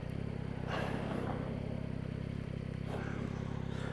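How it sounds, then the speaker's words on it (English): A Yamaha MT-09 motorcycle engine drones steadily under a rider on the move, a low rumbling hum with rushing wind noise over it and brief swells, close and continuous. "See how the engine noise pans out."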